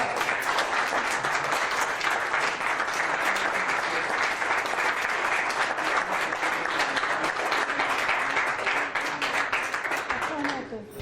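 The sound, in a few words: audience applause at a congress session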